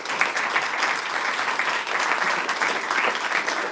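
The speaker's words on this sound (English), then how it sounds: "Please join me in giving a huge round of applause to our incredible." An office anniversary celebration crowd claps in a dense, sustained round of applause, steady and fairly loud from start to finish.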